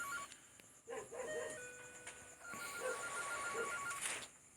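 A phone rings indoors with a repeating electronic ringtone melody, fairly faint against a noisy background, running for several seconds.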